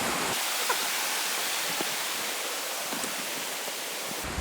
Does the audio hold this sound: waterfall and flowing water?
yes